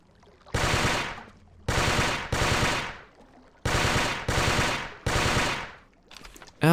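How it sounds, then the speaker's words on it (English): A burst-fire weapon fires in the game Carnivores Fallen Kings: six loud, rapid bursts, each a tight cluster of shots, come in two groups of three with short pauses between, ending with a quick extra burst. "it is a burst fire weapon, so what that basically means is every time I pull the trigger, it's automatically shooting a number of shots out"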